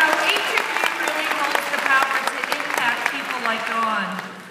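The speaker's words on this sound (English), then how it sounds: "Let's give her another big round of applause, shall we?" Audience applause at a leadership conference, a dense steady wash of many hands clapping that fills the whole stretch at close range, with a voice speaking over it.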